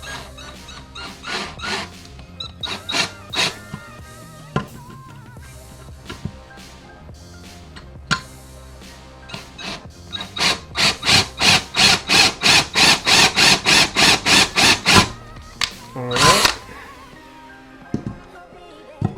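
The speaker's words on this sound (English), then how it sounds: "we'll go ahead and drill that in with the bit and just get about halfway through the chassis there." A drill bit cuts halfway through an RC car chassis from a RedCat Rampage conversion. Short pulsed bursts start it, then a fast run of rhythmic grinding pulses, close and loud, ending in a longer whine.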